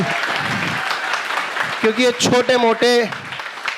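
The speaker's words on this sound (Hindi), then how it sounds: "मन कर रहा हो तो ताली बजा देना" Students in a classroom break into a burst of hand clapping, followed by a few loud voices calling out over the applause.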